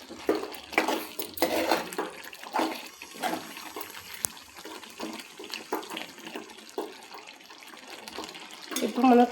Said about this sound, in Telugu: ఇప్పుడు మనం కొంచెం తగినన్ని వాటర్ వేసుకోవాలి.